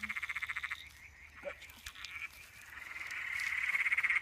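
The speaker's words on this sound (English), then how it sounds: "he'll just be sitting around here calling, doing the frog calls for breeding and stuff" An emerald spotted tree frog calls at night in rapid pulsing trills, a fast run at the start and another building near the end, close and fairly clear against quiet ambient noise.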